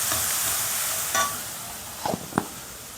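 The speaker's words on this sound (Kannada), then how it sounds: "ಹಸಿ ವಾಸನೆ ಹೋಗೋ ತನಕ ಚೆನ್ನಾಗಿ ಅದನ್ನು ಫ್ರೈ ಮಾಡ್ಕೋಬೇಕು." Onion and tomato fry with turmeric and salt in a pan for mushroom gravy, giving a steady, close sizzle with a few brief stirring scrapes near the end.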